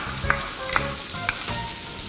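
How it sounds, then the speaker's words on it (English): Half a cup of onions sautéing in real butter in a pan, a steady close sizzle and fry with a few soft stirring scrapes and clicks, no voices. "we're going to saute a half a cup of onions in there."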